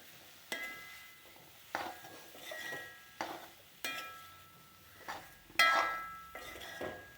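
A jackfruit seed and bean leaf stir-fry is mixed in a pan, with a series of spaced metallic scrapes and clinks from the spoon against the pan, each fading quickly, over a quiet background.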